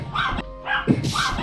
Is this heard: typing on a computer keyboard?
no